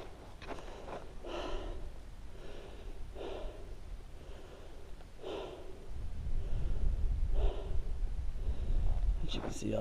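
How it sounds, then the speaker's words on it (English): A hiker high on a mountain trail among burned trees breathes heavily while catching breath, with repeated loud, rhythmic exhales and sniffing gasps close to the microphone over a low wind rumble. "Catch the breath."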